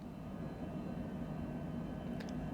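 Twin Honeywell jet engines of a Cessna Longitude drone steadily just after takeoff over Dubai in Microsoft Flight Simulator 2020, a continuous low roar with a faint whine, heard alone.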